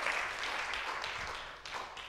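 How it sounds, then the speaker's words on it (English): A church congregation clapping in praise during a worship service, a dense, continuous wash of applause heard from within the room, fairly even throughout with slight swells. "Why don't we just give him a clap of praise?"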